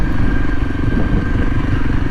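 A dirt bike rolls at slow speed over damp, sticky clay, its engine a steady, close, loud low rumble with a faint thin whine above it, throttle held even throughout.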